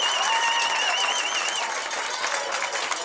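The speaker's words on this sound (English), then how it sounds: "listen to that crowd here at the Collins Pearly" A home crowd roars and applauds at a high school football game after a last-second comeback drive at Collins Perley, a loud, continuous cheer with whistles rising above the broad noise.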